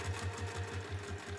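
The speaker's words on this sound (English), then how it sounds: "Making sure that you sew all the way off the end." A sewing machine stitches binding on a fabric washbag with a quick, even, steady mechanical chatter of about six stitches a second, close and fairly quiet.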